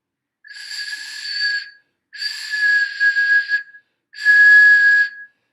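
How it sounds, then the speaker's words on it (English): Three breathy whistles made by blowing tangentially across a plastic pen cap, each lasting about a second with short gaps, steady and fairly loud, alone with no talk. "So as you can all hear this sound is presented to you just by blowing the cap of the pen tangentially"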